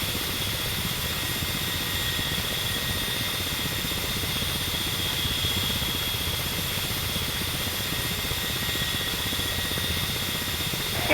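Inside the cockpit of a Ka-50 attack helicopter in the DCS flight simulator, the turbine engines and coaxial rotors produce a steady, unbroken whine and rumble, with a high constant tone over a dense low drone, running alone throughout.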